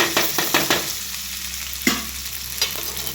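Potato pieces sauté in hot oil, with a few quick clattering stirs of a spoon against the pan at the start over a constant close sizzle.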